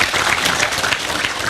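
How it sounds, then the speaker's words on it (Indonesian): An audience at a religious gathering applauds a group who delivered donations for friends in Lombok, giving a loud, dense, continuous burst of many hands clapping close by. "tepuk tangan untuk mereka"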